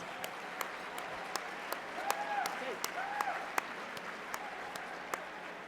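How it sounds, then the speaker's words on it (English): Sustained applause from a dinner audience at the Colorado Democrats' 83rd annual dinner, a steady dense patter of clapping with sharp individual claps standing out and some faint crowd voices mixed in. "Please give them a round of applause."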